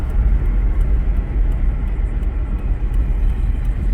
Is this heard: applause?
no